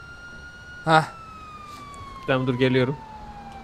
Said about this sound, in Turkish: Dur sirenleri de yak ama.